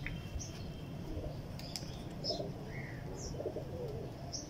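Soft pigeon cooing with occasional short chirps from nearby birds over a low steady background hum, no talk.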